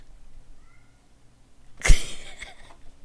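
Chester, a pet house cat, gives one fairly loud, close meow after a quiet stretch, with faint room noise around it.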